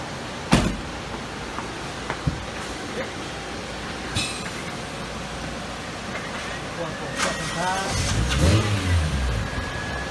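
Toyota AE86 with a 1JZ engine on a dyno. Scattered clicks and people talking at first, then the engine rises in a loud, climbing rev near the end.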